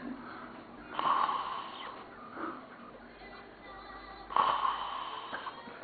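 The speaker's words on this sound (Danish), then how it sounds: "Vi skal bare lige høre snork lidt mere" A drunk man snoring in his sleep, rough rasping snores with two louder snorts a few seconds apart over low background noise.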